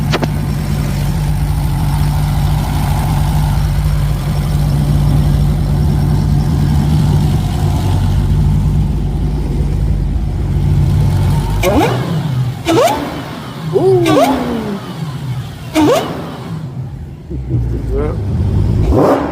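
A supercar styled as a modern muscle car idles with a steady low rumble, then several sharp revs sweep up and fall away toward the end, close by, with voices over it.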